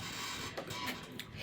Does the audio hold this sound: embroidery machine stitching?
yes